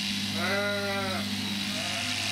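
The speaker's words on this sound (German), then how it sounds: "Störrisch wie Michi ist auch das nächste Schaf." A sheep bleats twice, a long wavering call followed by a shorter one, close by over a steady background hum on a farm in Mecklenburg-Vorpommern where sheep are kept for wool.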